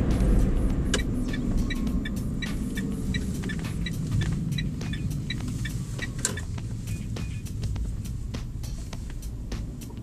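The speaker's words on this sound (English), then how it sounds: "we're just pulling into the car park now" Interior of a Peugeot iOn electric car pulling into a car park: a steady low road rumble and tyre noise with faint ticking and rattles, no engine sound, continuous and moderately quiet.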